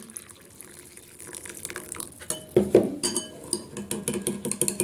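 Hot water is poured into a pot of salty tomato paste sauce for stuffed cabbage rolls and stirred, bringing splashing liquid and metal clinks of a spoon against the pot, growing louder toward the end with no talk.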